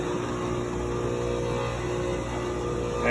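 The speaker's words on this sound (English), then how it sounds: "Pump started up, no problem." A pump motor switched by an Intermatic T104M timer hums steadily with a constant mechanical drone, then swells louder right at the end as it starts up.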